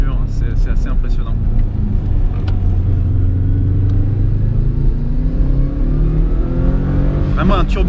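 A turbocharged car engine accelerates with a steady, loud low rumble whose pitch climbs gradually, and the turbo is slow to spool up. A voice talks over it.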